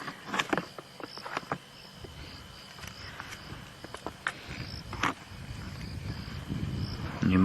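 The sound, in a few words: crickets and a mole cricket chirping in grass at night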